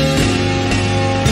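A pitched-down vaporwave sample with effects added back plays as a dense, washed-out wall of steady, sustained tones, loud and continuous throughout.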